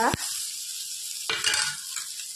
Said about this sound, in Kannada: ಇದನ್ನು ಒಂದು ಎರಡು ನಿಮಿಷ ಫ್ರೈ ಮಾಡ್ಕೊಳ್ಬೇಕು